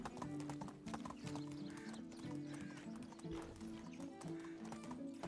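A horse in the medieval village-building game Medieval Dynasty clip-clops along at a steady trot, its hoofbeats accompanied by jingling tack over background game music, with someone speaking briefly.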